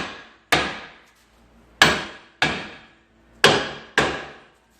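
A rusted cast-iron rear drum brake on a Dodge Caravan struck by a hammer: five sharp, loud metallic whacks at uneven intervals, each ringing briefly before fading, with no talking.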